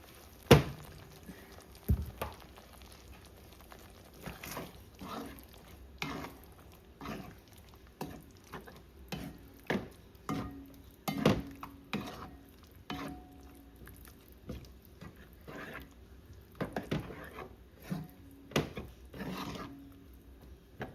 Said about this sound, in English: I'm gonna cook the sauce first.